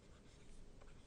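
A pen or pencil scratches steadily across paper in one short, continuous burst as a math step is written out during an algebra lesson. The sound is faint and close, with no talking.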